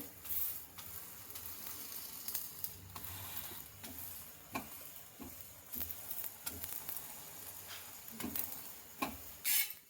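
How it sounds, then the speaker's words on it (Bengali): Aloo paratha or chicken keema fries in a pan with oil or butter, a soft, faint sizzle with intermittent scrapes and taps of a spatula, quiet and close with no talking. "লাল করে ভেজে নেব"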